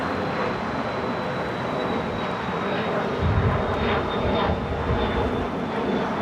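A Japan Airlines Boeing 777-300ER taxiing at Los Angeles International Airport, heard as a steady broadband jet engine rumble with a faint high whine, continuous and moderately loud throughout.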